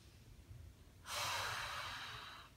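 A person breathes out forcefully during an abdominal exercise for diastasis recti: one long, breathy exhale starting about a second in and lasting to the end, close and fairly loud after a quiet start.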